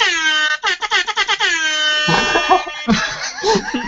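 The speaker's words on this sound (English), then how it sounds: "I have an app literally just for a trap air horn." A loud air horn blasts in a long tone, then a rapid stuttering series of bursts, followed by more honks mixed with raucous noise.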